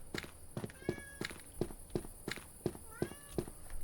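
A cat in a video game gives a couple of short meows amid a regular pattern of soft, evenly spaced footstep-like taps, all faint and without talk.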